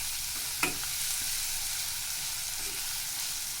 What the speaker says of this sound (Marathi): आपल्याला याच्यामध्ये चिरलेला टॅमॅटो घालायचा आहे, जो आपण अगदी बारीक चिरून घेतलेला आहे